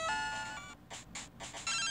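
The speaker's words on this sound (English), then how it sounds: "Oh, I'm getting a phone call." Incoming phone call ringtone in the Game Boy game Pokemon Crystal: a bright chiptune ring plays, then repeats in several short bursts, loud and alone.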